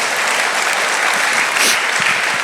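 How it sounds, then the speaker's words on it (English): A church congregation at a Sunday service applauds loudly and continuously, a thick wash of many hands clapping together with no speech over it. "See, yeah, you can clap"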